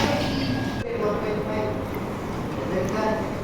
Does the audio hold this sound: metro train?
yes